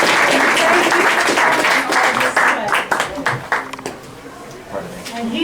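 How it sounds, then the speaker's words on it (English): Audience applause for Nathan Brinkman, a man from Northern Virginia, at a parents' movement gathering: a loud, dense burst of clapping that gradually thins and fades, with voices mixed in. "let's have a round of applause for Nathan Brinkman"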